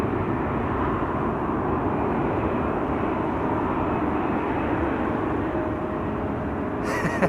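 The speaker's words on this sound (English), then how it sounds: "There's the A340-600. Suriname, flight 993 to Paramaribo," Airbus A340-600 jet of Suriname Airways climbing out after takeoff, a steady loud broadband engine roar holding level throughout, close and continuous with no talk.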